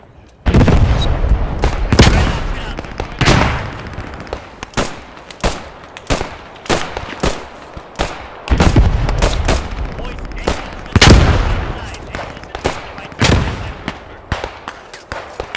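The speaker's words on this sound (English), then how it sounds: "Grenade out." A grenade blast and bursts of gunfire sound loud and close, a heavy boom followed by a long run of irregular sharp shots and cracks, with some voices in between.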